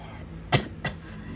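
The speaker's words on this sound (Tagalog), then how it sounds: "Pagpasensyaan nyo na kung umuubo ako." Two short coughs, a brief pause between them, fairly close against a quiet background hum.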